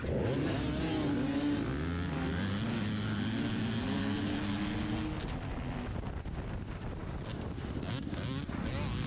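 KTM 300 XC two-stroke dirt bikes start an open C class hare scramble race at a farm, several engines revving hard and rising in pitch close by under heavy wind buffeting on the microphone.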